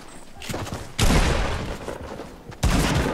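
Gunfire in the Fortnite video game breaks out in two loud bursts, a long rattling volley and then a sharp second burst near the end, close and dominant over faint background sound.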